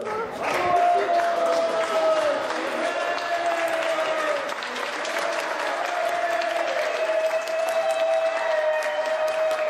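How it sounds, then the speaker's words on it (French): Neighbours at their windows cheer and applaud children finding Easter eggs during a neighbourhood egg hunt, a sustained wash of clapping and crowd noise with a steady tone running through it. "les voisins postés à leur fenêtre les acclament."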